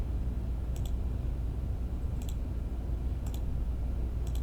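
A computer mouse gives four sharp double clicks, spaced about a second and a half apart, over a steady background hum. The clicks are close and distinct, and nobody speaks.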